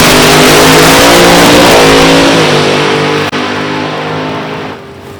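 Drag racing car on a strip, engine roaring at full throttle very loud and close, then shutting off so the roar steadily fades over the last seconds.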